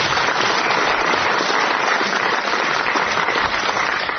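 Studio audience applause at a British radio quiz show, dense steady clapping heard close and continuous for about four seconds.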